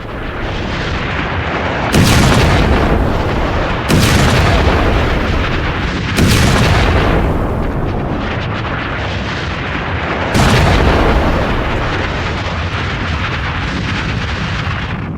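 Repeated explosions from Israeli strikes on Hezbollah positions in Lebanon: loud, broadband booming blasts near the 2, 4, 6 and 10 second marks over a continuous heavy rumble, with no talking.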